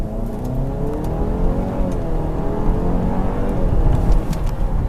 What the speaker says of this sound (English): I want to launch it, see how it kind of feels.